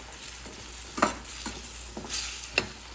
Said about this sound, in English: Now I'm going to add the tamarind also, so that the tamarind also gets cooked with the tomatoes and onions.